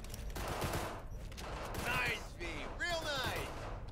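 Rapid gunfire in the video game Cyberpunk 2077, heard as moderate bursts of shots mixed with whooshing and mechanical game effects, fairly close, with occasional talking over the action.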